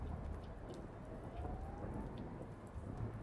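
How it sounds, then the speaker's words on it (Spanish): Steady rain with low rumbling thunder in the video game Blacksad: Under the Skin, a continuous stormy wash with no speech, fairly quiet throughout. "¿Por qué tienen que agregar truenos?"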